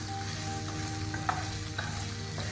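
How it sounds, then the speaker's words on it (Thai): Ginger and garlic stir-fry together in a pan for a ginger fish dish, a quiet steady sizzle with a steady low hum beneath and a few faint spatula scrapes. "แล้วเราก็ใส่ขิงลงไปค่ะ ไปผัดกับกระเทียมเลย"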